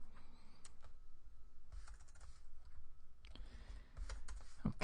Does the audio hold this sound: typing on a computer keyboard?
yes